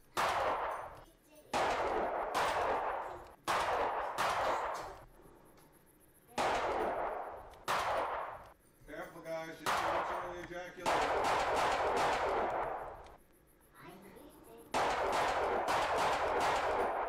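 Bursts of automatic gunfire in a horror video game, repeated loud volleys with short gaps across the whole stretch, and a voice speaking briefly between shots.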